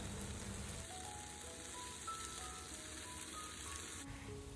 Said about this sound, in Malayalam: അപ്പോൾ അതുവരെ നമുക്ക് ഇതൊന്ന് തിരിച്ചും മറിച്ചിട്ടിട്ട് ഫ്രൈ ചെയ്തെടുക്കാം.